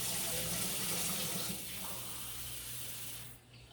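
Water pours steadily into a homemade cayenne pepper squirrel deterrent mix, a continuous close splashing hiss that thins out near the end.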